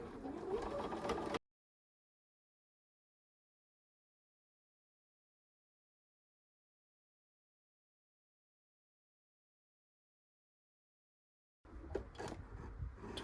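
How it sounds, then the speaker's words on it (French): A sewing machine stitches a second gathering line on an elastic-waist skirt in two short bursts, one at the start and one at the end, with a long silence between. "on coud la deuxième ligne de fronce"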